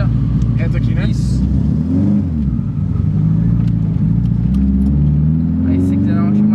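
A naturally aspirated Chevrolet Monza engine drones and revs steadily from inside the moving car, a loud low rumble with rising and falling pitch sweeps, while people talk over it.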